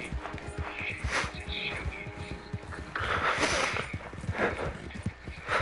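Horse hooves clip-clop in the Red Dead Redemption 2 video game, a steady, evenly paced run of hoofbeats throughout, moderately close, with a swell of broader background noise midway and faint voices at times.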